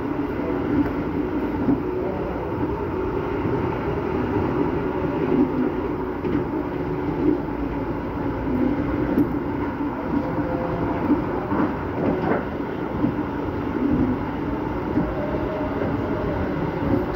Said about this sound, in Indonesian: Oh ini ada kereta api Singasari sepertinya itu teman-teman